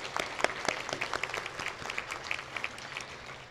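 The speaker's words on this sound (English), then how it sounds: "So give yourself a round of applause." A small group applauds, scattered claps trailing off and fading over a few seconds, fairly quiet and with no talking.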